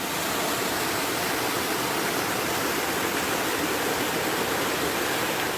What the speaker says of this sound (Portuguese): Olha a força dessa água que sai de um esgoto na Rua do Cano